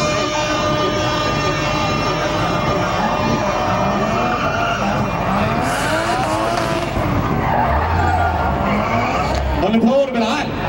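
A BMW E36 fitted with a 1JZ engine drifting, its engine roaring and tires squealing loudly in long skids close by, with people talking over the noise.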